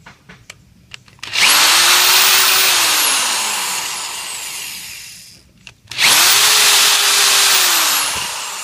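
A power drill backs out three fasteners holding a pump head to a motor during a motor swap, two sustained whirring runs with rising then falling pitch, the second starting after a short pause, close and loud with no talk.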